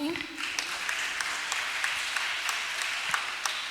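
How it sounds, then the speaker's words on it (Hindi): An audience at a summer camp certificate ceremony applauds steadily as a name is called out, a continuous rattle of clapping from a room of people, with a voice speaking briefly at the start. "प्लीज तालियां बजाएं।"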